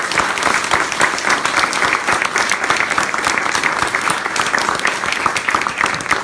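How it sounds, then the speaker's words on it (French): Audience applauding sponsors during a 2017 charity team speech, steady loud clapping from a full room sustained for several seconds without pause. "on peut les applaudir je pense."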